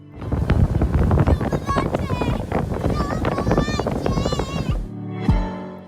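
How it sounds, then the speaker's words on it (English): A motorboat roars over choppy water in Venice, jumping the wakes of big ships, with heavy wind buffeting the microphone and splashing hull slaps, loud and close, before the engine noise drops away. "The boat ride was lots of fun, especially when jumping over the wakes of big ships."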